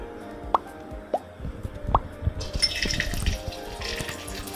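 Raisins are dropped into hot ghee and soybean oil in a pan for Bangladeshi jorda shemai vermicelli, giving a few soft plops followed by a rising, steady sizzle of frying.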